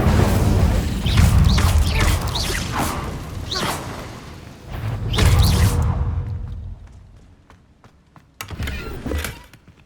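The Incendio fire spell is cast in Hogwarts Legacy, with whooshing bursts and low booms of flame recurring several times amid game noise, fading out before a final rush near the end.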